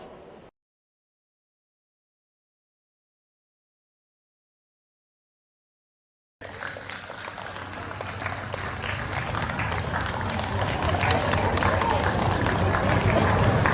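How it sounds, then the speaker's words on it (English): Schoolchildren at a school jubilee celebration applaud to welcome guests; after a brief sound and several seconds of silence, a dense, crowd-wide clapping rises and grows steadily louder. "Come on, children, let us give a round of applause."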